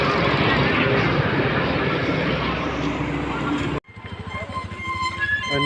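A helicopter flies over an outdoor gathering at Kerukocha, Jharkhand, with a loud, steady rotor and engine roar that cuts out abruptly and then returns more faintly, with voices in the background.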